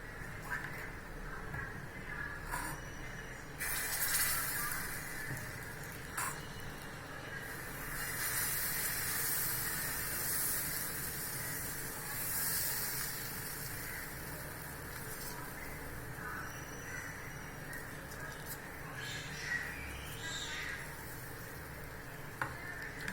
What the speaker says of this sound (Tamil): இப்போ வாங்க தோசை ஊற்றிடலாம்.